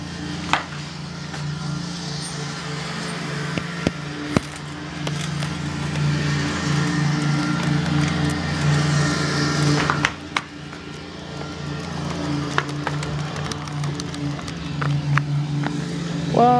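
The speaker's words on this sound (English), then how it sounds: "today's video is about having a card in the wheel of your bike to make it sound like a motorcycle" A playing card held on with yellow electrical tape flaps rapidly in the spokes of a moving bicycle wheel. It makes a steady, buzzing rattle like a small motorcycle engine, with occasional clicks and knocks.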